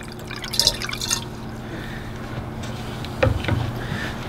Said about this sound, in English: I'm going to just use a little bit of more water to wash that down in there.